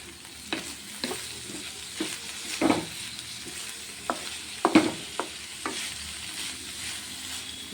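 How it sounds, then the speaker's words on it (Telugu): Bitter gourd (karela) curry fries in a pan under a constant low sizzle, punctuated by irregular spatula knocks and scrapes against the pan as the pieces are stirred, near and without talk. "మొత్తం బాగా ఫ్రై చేసుకోవాలి."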